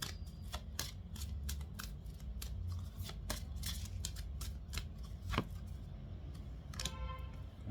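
Romance angel oracle cards shuffled and drawn by hand: a steady run of crisp, close riffling clicks and slaps over low room hum, with a sharper flick near the end and no talking.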